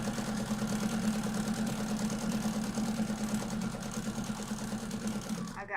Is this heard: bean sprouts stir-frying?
no